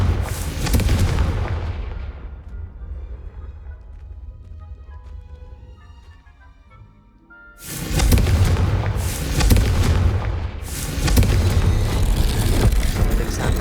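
Booming blasts from the Confringo fire spell in the video game Hogwarts Legacy: loud, heavy explosions open, fade into a quieter stretch, then return as a rapid series of powerful bursts and rumbling impacts, with no talking.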